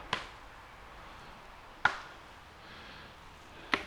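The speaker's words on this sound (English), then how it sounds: "He's hitting a broken branch against a broken branch." A broken branch is struck against another broken branch in woodland, three sharp, distant knocks about two seconds apart with quiet forest ambience between them.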